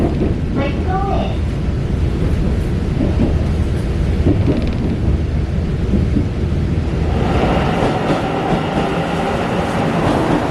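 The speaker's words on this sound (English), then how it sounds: "it's raining" Rain pours steadily in Changhua, Taiwan, right after a train arrives at the station, a loud, dense, unbroken hiss lasting throughout with a rumbling undertone.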